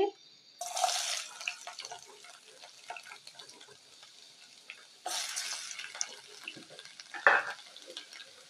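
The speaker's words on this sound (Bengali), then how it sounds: "এখন দিয়ে দিচ্ছি কিছু রসুন কুচি" Chopped garlic dropped into hot oil, hissing into a sharp sizzle that flares twice, then settles into a softer crackle with occasional stirring clinks.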